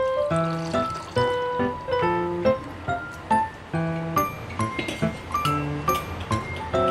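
Water is poured over soaked urad dal for medu vada batter, coming through as gentle trickling and splashing in a regular sequence of short pours, moderately close, with no talking.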